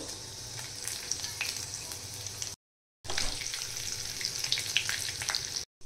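Curry leaves and green chillies frying in hot oil for a dal prasad, a loud continuous close sizzle with crackles and stirring, briefly cut off twice by short gaps of silence.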